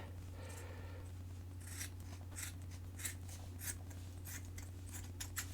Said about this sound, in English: Just throw a little 45er on her with the old scissors there.